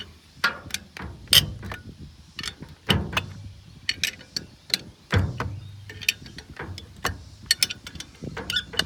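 Bolts on a brush cutter slip clutch being snugged up with a ratchet make a series of sharp, close clicking bursts at an uneven pace, separated by short quiet gaps.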